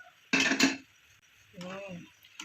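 A utensil stirs fried tempeh and tofu in a pot of boiling water, with two sharp scraping clanks against the pot followed by a softer rattling stir. The sounds are close and come in short bursts with pauses between.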